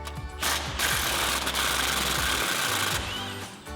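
Rapid mechanical rattle of an impact wrench with a 17mm socket loosening the lower strut bolt on a Toyota Tacoma during a suspension lift install, two close, loud bursts over about three seconds with no talk.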